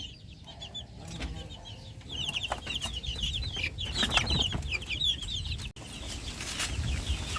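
Chicks being sorted by hand on a farm, with a continuous chorus of high cheeping from many birds close by, over rustling, shuffling handling noises and no talk.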